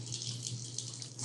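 A Valterra Phoenix RV kitchen faucet runs in power-boost mode, giving a steady, fairly quiet hiss of flowing water into the sink with no pauses.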